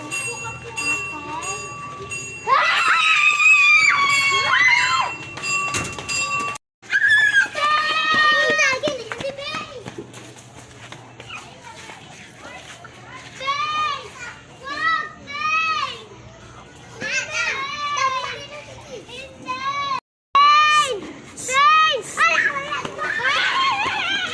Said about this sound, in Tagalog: Sumisigaw sila.